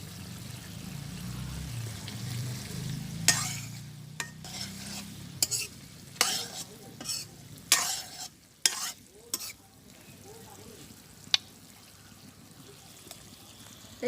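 Curry in a pan with ground roasted cumin paste being worked in, a low sizzle under repeated sharp spoon scrapes and knocks that come in irregular bursts, close by and without talk.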